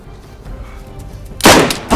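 A sudden loud burst of gunfire in the video game DayZ erupts near the end after a quieter stretch of low rumble and faint background noise.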